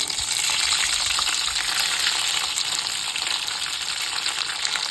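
Ginger paste fries in hot oil in a pan while cooking palak paneer, giving a loud, dense, steady sizzle with faint stirring, close up and without talk.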